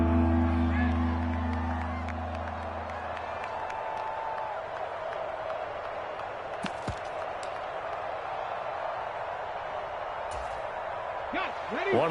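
Stadium crowd noise in an American football video game during the fourth quarter, a steady roar that swells at the start, holds loudly through the clip, then lifts again near the end, with tonal game audio underneath.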